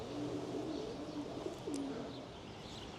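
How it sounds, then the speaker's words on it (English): Pigeons cooing in a pigeon loft, soft repeated low coos from several birds at a moderate distance over a constant ambient hum, no speech. "lots and lots of pigeons"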